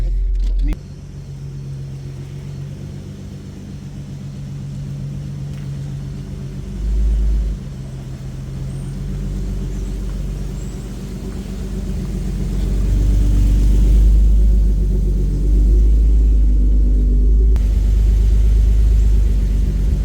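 A car engine rumbles steadily, growing louder as the car pulls up and idles close by, with voices talking over it.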